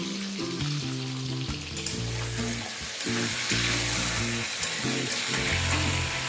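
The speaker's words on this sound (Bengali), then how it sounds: "হালকা লালচে করে আলুগুলোকে ভেজে নেব।" Potatoes fry in hot oil, lightly salted and turmeric-dusted, with a loud, continuous sizzle and crackle, close up, alongside a low background hum and occasional stirring clinks.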